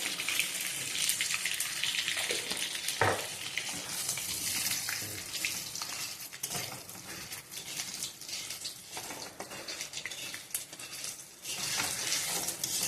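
Dried red chillies and five-spice seeds sizzle in hot oil in a home kitchen, making a steady, loud, hissing crackle with scattered pops that carries on throughout.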